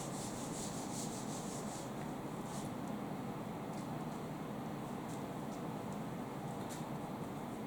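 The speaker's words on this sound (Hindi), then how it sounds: "थोड़ा सा रब कर देता हूँ इसको ऐसा।" Steady, continuous scrubbing of a board during a chemistry lecture, a soft dry rubbing hiss with faint brief squeaks, fairly close and unbroken.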